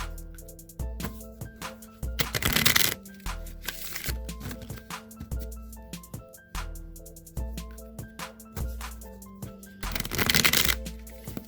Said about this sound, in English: Let me give these a few shuffles for you guys.